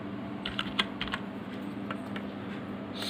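Keys on a computer keyboard are tapped in a quick, uneven run of light clicks over a steady background hum, close and fairly soft, with no talking.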